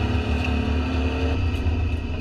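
A PRO3 race car at Pacific Raceways passes at the race start, a steady loud engine drone with a rumbling low end, heard alone without talk.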